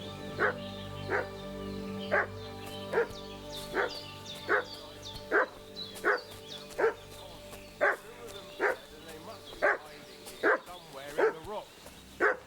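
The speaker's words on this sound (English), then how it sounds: "The dog is barking. What's that dog making such a fuss about?" Dog in Kingdom Come Deliverance 2 barking in a steady rhythm, about fifteen evenly spaced loud barks over a low background hum, close by.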